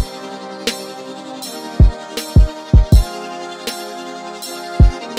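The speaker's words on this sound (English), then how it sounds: "Then we come in with this snare, which plays pretty softly in the mix" Kick drums thud under a sustained synth pad while a soft, light snare taps quietly on the offbeats, sitting low in the mix, in a beat.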